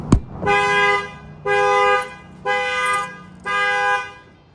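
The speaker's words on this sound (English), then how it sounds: "The alarm's going to fire off." A 2024 Chevy Colorado truck's factory alarm, triggered by a shock sensor, blares in four long, steady electronic honks of equal length, loud and close, with short gaps between them.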